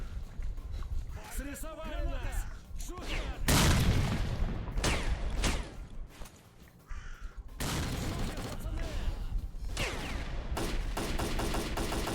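Gunfire from the video game S.T.A.L.K.E.R.: Clear Sky in a fight with bandits, loud bursts and cracks of shots mixed with game noise, carrying on across the clip with a brief lull in the middle.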